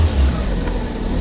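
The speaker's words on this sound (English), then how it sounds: "You give the car a little rev just while we're inside the car." A 2011 Fiat Panda's small engine revs briefly while the car sits parked, a steady low rumble heard from inside the cabin with no talk.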